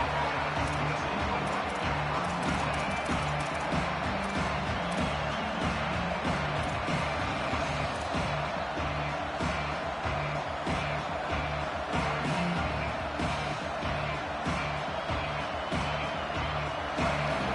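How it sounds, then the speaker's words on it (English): A dense, roaring stadium crowd in the college football video game NCAA 27, Oklahoma versus Alabama, cheering continuously, loud and sustained with no pauses, filling the whole space. "Listen to this crowd just shaking the girders of this place, trying to help their defense."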